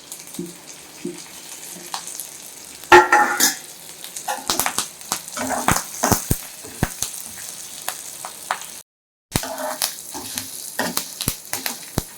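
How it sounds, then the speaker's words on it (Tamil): Chillies and coriander seeds dry roasting and being stirred in a pan for a mutton intestine kuzhambu, with a steady low crackle and sizzle, scraping stirs and clicks, and a brief break midway. "நல்லா கருக்காமல் எல்லாம் ஒன்றா போட்டு வறுத்திங்கன்னா சூப்பராக வரும்"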